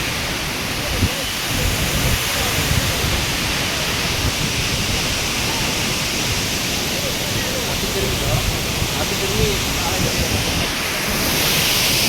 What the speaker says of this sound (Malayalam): നമ്മൾ ആഗ്രഹിച്ച പോലെ വെള്ളച്ചാട്ടം കാണുകയാണ്